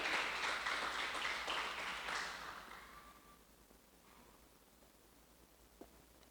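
A church congregation applauds, a burst of clapping that is strongest at first and fades away over a few seconds into quiet room noise.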